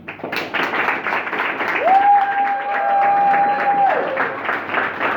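Audience applause and some cheering rise and hold steady, with a sustained whistle-like tone running through the middle of the clapping.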